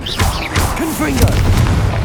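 Confringo blasting spell bursts in Hogwarts Legacy, a series of loud booming explosive pops in quick succession with crackling debris, dense and close, with a voice mixed in.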